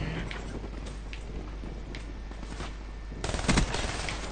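A rapid burst of gunfire from a shooter video game, a loud clustered rattle near the end over a steady low background hum.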